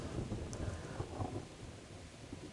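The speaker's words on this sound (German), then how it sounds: "Ja, voll der Wolkenbruch. Wie ich schon höre, Gewitter im Hintergrund." Heavy rain pours steadily while low thunder rumbles underneath in the video game Kingdom Come: Deliverance, a dense, continuous storm wash with no voices.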